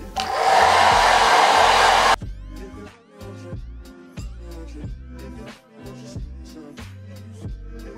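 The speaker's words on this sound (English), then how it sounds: "To go in with my blow dry, I'm going to use it on the cool setting to dry the glue." A blow dryer on its cool setting dries lace frontal glue, a loud, close, steady rushing blast for about two seconds before cutting off, followed by quieter background music.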